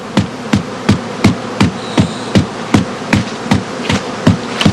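A beekeeper bounces a straw skep again and again to empty out honeycombs, loud rhythmic thuds about three per second, close, over a steady buzz of bees, no talk.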